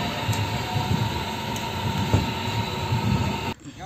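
A Diva passenger train runs on rails, a steady rumbling clatter from inside the carriage with brief wheel squeals and a sudden drop in noise near the end.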